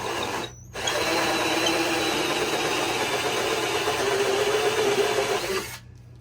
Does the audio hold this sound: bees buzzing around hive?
no